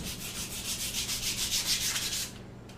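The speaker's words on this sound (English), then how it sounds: "Now this is a 60 grit sandpaper." Coarse 60 grit sandpaper rubbing over a wooden gun stock in steady back-and-forth strokes, close and rhythmic, stopping near the end.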